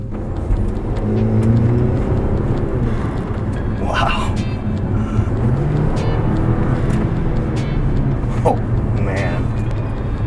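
An Audi A4 fitted with a K&N air intake idles and hums steadily, its low engine rumble continuous with brief revs, while people talk over it throughout.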